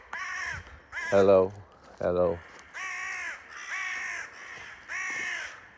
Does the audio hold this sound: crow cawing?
yes